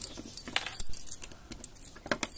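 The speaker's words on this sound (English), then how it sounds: "the keys are in my pocket." Metal keys jangle in a series of bright, irregular clinks and rattles as they are pulled from a pocket, close and fairly clear with no talk.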